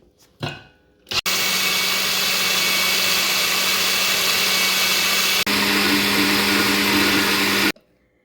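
A wet grinder running on dosa batter, a loud steady motor whir after a brief start-up knock, with a short dip midway as the mixing changes pitch, then a sudden stop.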